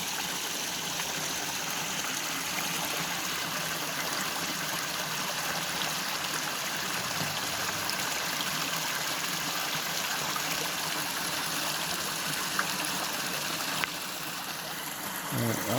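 Spring water flowing out of the ground on a rural property in Macon County, Tennessee, a steady close trickling and gushing stream that continues evenly throughout with no one speaking.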